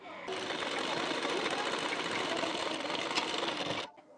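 Close, steady whirring rattle of a sewing machine stitching a hook strip onto a blouse, running continuously for a few seconds before stopping abruptly.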